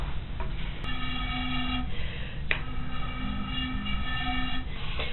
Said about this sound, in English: here's me just going through a whole bunch of our tubes.